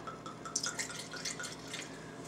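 A wine glass gets a quick rinse, with light splashing and dripping water tinkling against the glass in irregular bursts close by.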